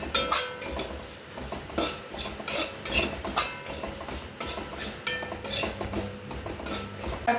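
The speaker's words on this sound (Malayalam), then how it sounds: "ആദ്യം ഒരു 1-2 സ്പൂൺ മുളക് പൊടി, ഒരു 2 സ്പൂൺ മല്ലിപ്പൊടി ഒന്ന് ഇളക്കി നോക്കട്ടെ" A spoon stirs chilli powder and coriander powder in an oily pan for a Kerala vendakka theeyal, giving repeated metallic scrapes and clinks against the pan in an uneven rhythm, close and clear, with no talking.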